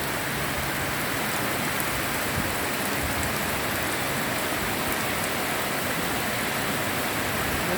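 Steady rain falls continuously, a dense even hiss of drops on surfaces with no breaks and no voices.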